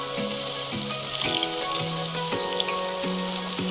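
Home cow's milk is poured into a hot pan of bottle gourd curry, giving a soft, steady hiss and patter like light rain. Background music plays throughout.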